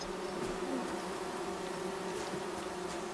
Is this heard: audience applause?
no